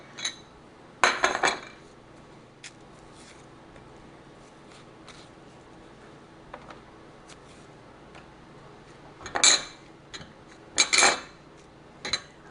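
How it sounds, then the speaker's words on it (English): Bananas being mashed with a potato masher in a home kitchen, giving a few sharp clinking, clattering bursts of metal against a bowl separated by quiet pauses, close and moderately loud with no talking. "I'm just going to give this a little mash with this potato masher"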